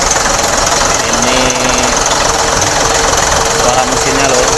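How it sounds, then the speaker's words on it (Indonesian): A Mitsubishi Fuso 6D22 diesel truck engine idling after repair, a loud, steady close-up clatter with an even knocking rhythm and constant hum, running without a break. "Serikas suara mesin Mitsubishi."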